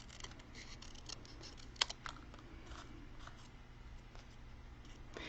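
Scissors cut the top off paper grass with faint, close snips and one sharper click, set against quiet room noise.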